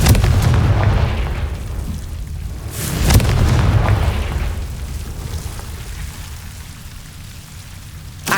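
A Confringo blasting spell explodes in Hogwarts Legacy, a loud booming blast followed by rumbling, crackling debris, then a second strong impact that decays into a fading roar.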